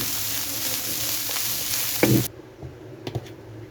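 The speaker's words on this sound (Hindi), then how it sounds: "इसमें प्याज शामिल कर देंगे। इधर ज़्यादा कुक नहीं करना, 2 मिनट के लिए सौटे करना है" Onions sizzle and crackle in a hot pan for about two seconds, a brief stir knocks against it, then the sizzling cuts off abruptly as the stove is turned off, leaving faint taps.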